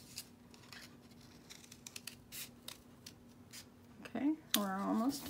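Scissors snipping paper at an angle for handmade paper flowers, faint crisp cuts in a quiet room, followed by someone speaking.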